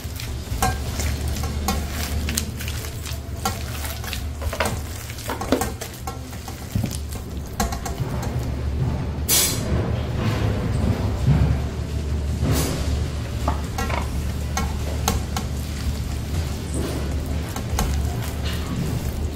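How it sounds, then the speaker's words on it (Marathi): Potatoes being stirred and mixed with cornflour in a bowl, a steady scraping and stirring texture throughout with a low hum underneath, no talking. "आणि पूर्ण असं मिक्स करून त्यात आपण कॉर्नफ्लोअर टाकणार आहे।"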